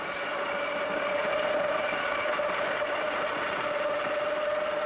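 A 1950s New York City elevated subway train departs Utica Avenue, rumbling steadily with a sustained high whine, a continuous mechanical roar holding at an even, fairly loud level throughout.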